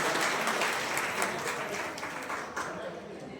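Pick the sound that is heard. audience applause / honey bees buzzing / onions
audience applause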